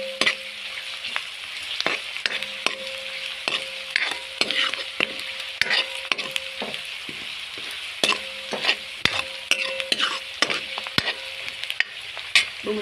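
Chopped onions frying in a pan under repeated scraping and knocking strokes of a stirring spoon, a continuous close sizzle beneath the irregular clatter, with no talk.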